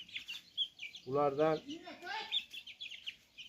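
Japanese bantam chickens cluck nearby, short chirping calls and a couple of louder harmonic clucks, partly under someone talking close by.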